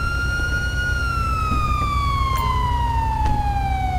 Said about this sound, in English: Damn, these sirens